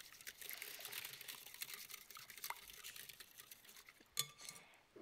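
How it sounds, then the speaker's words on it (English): Whisk scraping and stirring in a bowl as sugar, cardamom and salt are mixed into a yeast mixture for Finnish pulla dough: a faint, steady run of soft clicks and swishes, with a sharper knock near the end. "Add the sugar, cardamom, and salt, and give that a whisk."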